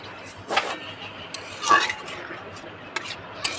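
A spoon stirs fish and ash gourd curry in a pot, a few sharp scraping clinks against the metal spaced over a few seconds, fairly close, with quiet background and no talk.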